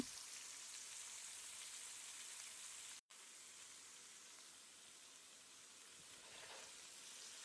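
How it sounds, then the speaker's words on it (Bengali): Eggplant pieces mixed with turmeric and salt dropped into well-heated oil, a steady, soft hiss of sizzling frying that continues throughout with one very brief dropout. "তেলটা ভালো করে গরম করে নিয়েছি এখন দিয়ে দিচ্ছি হচ্ছে বেগুন"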